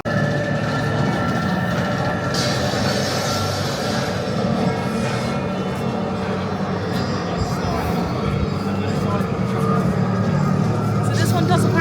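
Thorpe Park's The Swarm roller coaster train rolls in with a steady, loud rumble and rattling that holds throughout at close range, with people talking over it.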